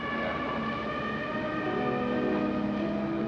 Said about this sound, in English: sirens and boat horns and fog horns and nasty, awful stuff